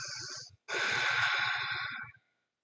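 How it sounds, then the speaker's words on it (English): Deep yoga breathing: a short audible inhale, a brief pause, then a longer, forceful breath through the nose, close and clear with no talking. "Two more inhales and exhales."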